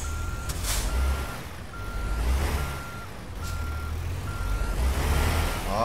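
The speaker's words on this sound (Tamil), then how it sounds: "வண்டி திரும்ப மாட்டேங்குது, நல்லா ரிவர்ஸ் போயிட்டு." A truck in American Truck Simulator backing up, with a steady rhythmic reversing beep over a low engine rumble and occasional air hiss, fairly close.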